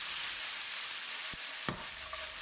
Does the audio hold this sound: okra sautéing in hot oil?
yes